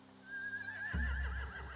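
A horse in the video game The Walking Dead lets out one loud, close whinny that rises and trembles into a wavering neigh, with low thumping underneath.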